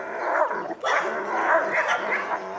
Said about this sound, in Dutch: De Duitse herder Wodan ligt er bovenop.